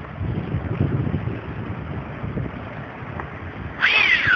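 Steady wind of roughly 11 to 15 mph buffets the microphone in a continuous low rumble, with a brief brighter whine rising near the end.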